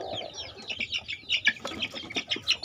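A flock of breeding hens clucks and chirps repeatedly in a rhythmic series of short calls, fairly close, with a low murmur underneath.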